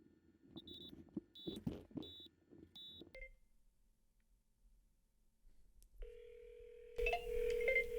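Telephone tones during a cold call, with short repeated electronic beeps at first, then a silent stretch, followed by a steady dial tone that turns into a louder mix of tones near the end.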